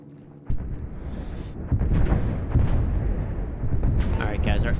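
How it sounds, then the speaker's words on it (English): Artillery shells explode in Arma 3, a series of heavy booms and rumbling blasts that begin abruptly and keep rolling over several seconds. Battle noise is dense, with voices faintly underneath. "our artillery is blowing up everything in up to base"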